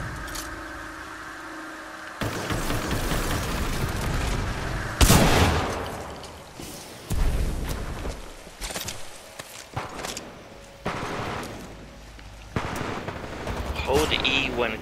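Gunfire in the first-person shooter Titanfall 2, bursts of rapid shots and single heavy cracks scattered across the clip, loud and close, among footsteps and game sounds.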